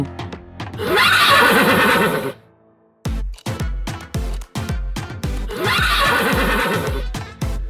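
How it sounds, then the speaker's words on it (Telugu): A cartoon horse in an animated moral story lets out two loud, shrill whinnies, with a run of sharp clip-clopping hoofbeats between them and no talking. "కొద్దిసేపటికే రాజు గుర్రం మీద వెళ్ళాడు."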